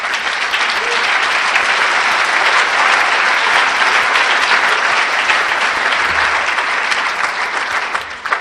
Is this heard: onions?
no